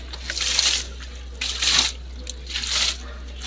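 An anti-termite decoction is poured onto soil in three separate splashing bursts, each lasting under a second, with short quiet pauses between them.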